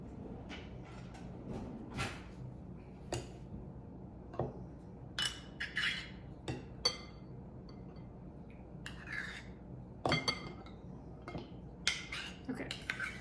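A measuring cup and spoon are picked up in a home kitchen while making berry crumble bars, giving scattered light clinks and soft knocks of utensils at irregular intervals, close by, with quiet talk between them.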